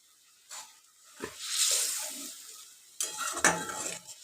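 Okra being stirred into a spiced yogurt masala in a pan, with a soft sizzle and a few brief scraping, clattering stirs, fairly quiet and close.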